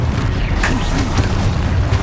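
A Confringo fire spell bursts in Hogwarts Legacy, a short, loud, boomy blast over a dense, rumbling game soundscape, with no talking.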